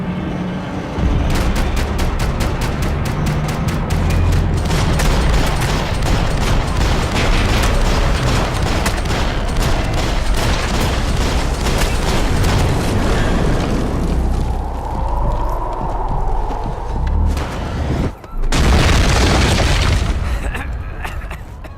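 Gunfire and explosions in the video game Max Payne 3: a dense barrage of rapid shots and heavy booms, loud and continuous, with a short pause near the end before another blast, and voices shouting over the action.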